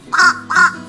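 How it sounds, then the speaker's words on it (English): A crow caws twice at a backyard bird feeder, two loud, harsh, drawn-out calls in quick succession, close and clear with no talk. "this crow shows up"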